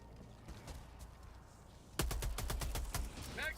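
Rapid burst of automatic gunfire in Helldivers II, a dense run of sharp, loud shots starting abruptly after quieter ambient game sound and continuing until the magazine runs dry, with a faint mechanical click near the end.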